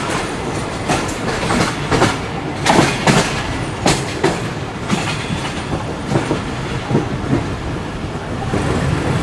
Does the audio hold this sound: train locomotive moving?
yes